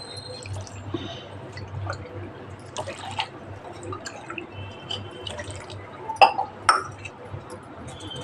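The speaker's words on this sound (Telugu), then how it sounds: "దీనికి ఒక గ్లాసుకు 3 గ్లాస్ వాటర్ పోయాలి" Water trickles and drips into a cup of mix for Bombay halwa with light glassy clinks, a few sharper splashes near the end, over a low steady hum.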